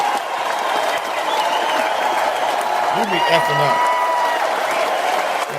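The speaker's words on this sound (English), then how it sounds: "I have the claps playing" Canned applause sound effect playing on a morning radio show, a dense continuous wash of clapping running throughout while someone talks over it.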